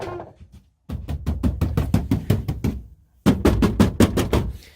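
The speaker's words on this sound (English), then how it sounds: "Pound on that door." Rapid bursts of heavy thumping on a car door with foam underneath, two rounds of about a dozen blows each separated by a short pause, loud and close.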